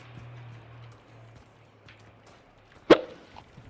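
A single sharp, loud hiccup stands out against quiet background hum, heard during a Call of Duty Warzone gaming session.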